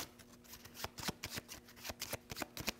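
Cards from the Leviathan Wilds board game shuffled by hand, a run of quick papery riffles and flicks in an irregular rhythm, close and moderately quiet with no talk.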